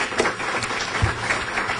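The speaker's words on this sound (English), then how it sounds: "Let's first of all give them an applause for coming tonight." A crowd applauds briefly, the clapping fairly soft and distant, heard alone.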